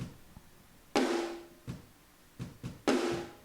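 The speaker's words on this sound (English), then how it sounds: "here's the sound of the room mics through this compressor." Punchy drum hits from room mics run through a compressor ring out in a roomy space, with a sharp snare crack and booming decay, several irregular strikes spaced apart, from a cover song.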